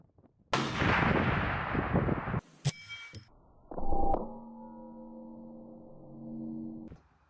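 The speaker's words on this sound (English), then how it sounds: "we broke the shot" A Remington 700 SPS Tactical .308 rifle with a short 16.5-inch barrel fires one loud, sharp shot outdoors while hunting. A long rolling echo follows, then brief clatter and a sustained tonal hum.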